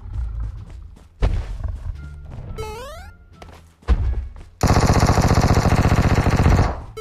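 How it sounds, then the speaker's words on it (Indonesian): Gunfire in PUBG Mobile: scattered heavy thumps and a rising electronic chirp give way to a loud, rapid automatic burst of about two seconds, close and dominant. "Ada orang tembak aku dari jauh."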